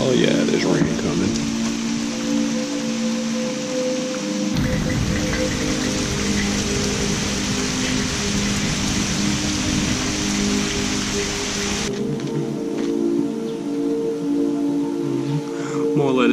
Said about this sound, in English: there's rain coming.